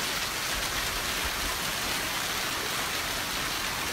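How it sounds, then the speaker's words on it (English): Steady, dense hiss of heavy rain pouring down during a flooding downpour in Spain, constant and loud for the whole stretch with no voices. "Serious downpour leads to massive flooding in Spain."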